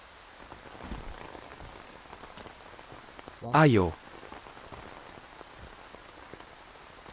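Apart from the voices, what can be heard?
heavy rain falling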